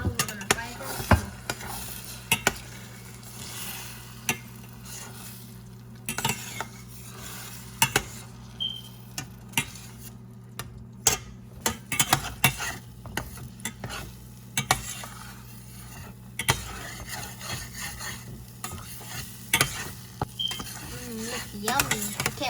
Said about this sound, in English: And now we're going to fry that.